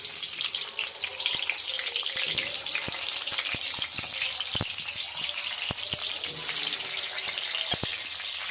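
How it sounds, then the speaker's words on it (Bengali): Cut potatoes frying in hot oil in a wok give a steady, dense sizzle scattered with sharp crackling pops, close and continuous throughout. "তেল গরম হয়ে গেছে, এবার কেটে রাখা আলুগুলো দিয়ে দেবো"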